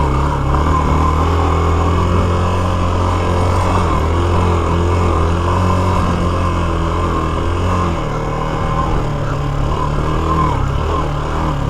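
Bashan Brozz 250 dual sport motorcycle ridden on an off-road ATV trail, its engine droning steadily and loudly throughout with low rumbling and shifting pitch, no talk.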